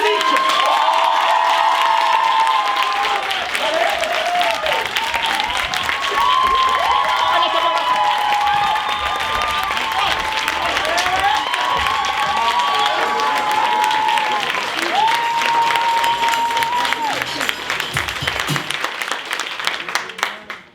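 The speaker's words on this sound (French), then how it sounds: "Alors on va les applaudir bien fort." A classroom audience applauds loudly and cheers to encourage shy children about to perform. The dense clapping comes with shouts and whoops, and children's voices rise and fall above the din for about twenty seconds.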